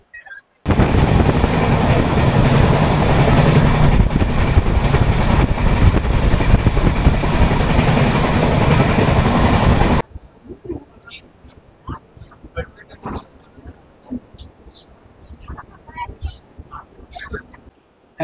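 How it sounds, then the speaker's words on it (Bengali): The Dhauli Express from Shalimar to Puri rumbles loudly and continuously on the rails for about ten seconds near Kharagpur, then cuts to quieter station ambience with scattered voices. "এইমাত্র ধৌলি এক্সপ্রেস খড়গপুর স্টেশনে এসে থামলো"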